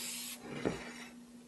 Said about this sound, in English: Go ahead and spray our pan with nonstick spray.